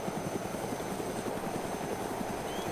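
A helicopter flies in DayZ, its rotor thumping in a fast, steady rhythm over a constant engine roar, moderately near, with no one speaking.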